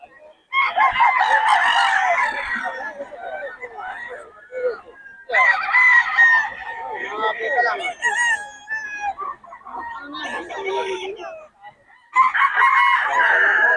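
Several fighting roosters at Bocaue crow again and again in loud, drawn-out calls, with clucking between the crows, close by and filling the whole stretch.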